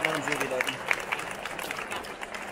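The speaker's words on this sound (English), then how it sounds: "a big round of applause for the sponsors there" At the Vivarium 2019 aquarium fair in Holland, a crowd applauds the sponsors of the aquascaping contest with a short burst of clapping. Voices from the crowd mix into the noise throughout.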